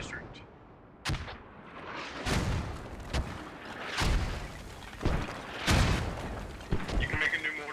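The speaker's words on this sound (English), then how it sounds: "I think it got mortared." Mortar shells burst in the game Squad as a run of loud booming explosions, about six of them spaced roughly a second apart, each with a rumbling tail over steady background noise, with voices talking at times.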